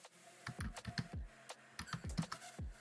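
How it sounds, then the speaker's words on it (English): Typing on a computer keyboard during an online tabletop role-playing session, a close burst of sharp, irregular key clacks in quick clusters with brief pauses, alone without talk. "I heard the typing."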